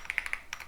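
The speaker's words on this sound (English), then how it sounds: "all we have to do is just type in this command" A command being typed on a computer keyboard, a quick burst of light clicking keystrokes in an irregular rhythm, close and quiet with no voice.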